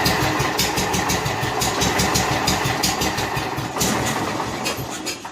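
A John Deere 210 lawn tractor engine catches and runs at a fast, rough idle, loud and near, with a steady pulsing chug that eases off at the very end.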